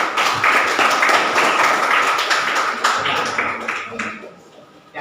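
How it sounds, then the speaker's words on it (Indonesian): A school class applauds together at a lesson during a teaching assessment, a dense, loud burst of clapping that holds steady and then thins out toward the end, with some voices mixed in. "Tepuk tangan semua"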